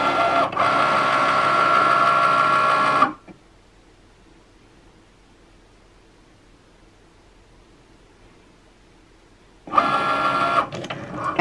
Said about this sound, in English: we're going to press the C, and it's going to do the design.